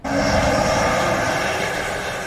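A jet engine sound effect for an audiobook scene where twin jet engines emerge from a decorated Easter egg: a loud, steady, broadband roar that starts abruptly and holds without a break, with no voices.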